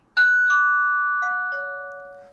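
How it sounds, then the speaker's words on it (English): An Aqara G410 doorbell's indoor chime unit rings indoors: two-tone ding-dong chimes sound close and clear, starting suddenly and ringing out slowly in a quiet room. "I'm just gonna pretend I'm using the doorbell."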